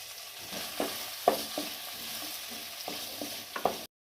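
Chopped onions frying with salt in hot oil, a low sizzle punctuated by several sharp scrapes of a spoon stirring the pan, close and without talk.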